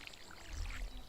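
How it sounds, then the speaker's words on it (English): Watering can pouring over crops in the Stardew Valley video game, a short soft splashing pour that swells in the middle, with no talk. "I'll need to water everything now."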